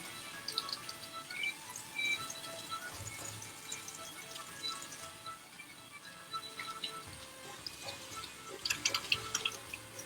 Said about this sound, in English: I should be keeping up the discussion while I'm washing my hands